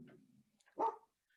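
A single dog bark, fairly loud and close, comes after a low rumble of indoor background noise and a few faint small sounds, then silence.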